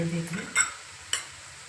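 A spicy chilli snack frying in a pan on a low flame, a soft sizzle with two sharp utensil clinks against the pan, close by, a voice briefly heard at the start.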